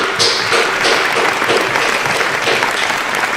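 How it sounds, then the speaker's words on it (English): A small audience at a podcast taping breaks into lively, close-up clapping that keeps going without a break, with occasional cheers mixed in. "Can I get a round of applause for that?"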